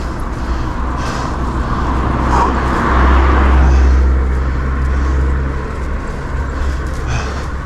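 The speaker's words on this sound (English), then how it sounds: "Another car comes." A car approaches and passes a cyclist climbing a steep road, its broad engine and tyre rumble swelling to a peak mid-way and fading again under steady wind noise.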